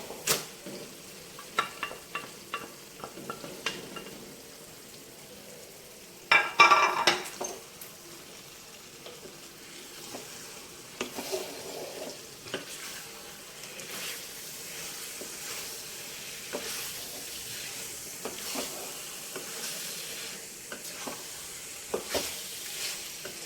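Marinated chicken sizzles in red masala paste for a restaurant-style chicken gravy, with stirring scrapes and clatters against the pan over a steady frying hiss and one louder burst early on.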